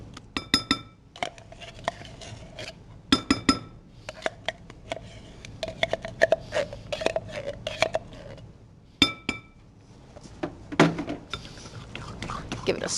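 Canned pumpkin puree goes into a mixing bowl of sugar and other ingredients and gets stirred, with scattered clinks and scrapes of a utensil against the bowl and quiet gaps between them.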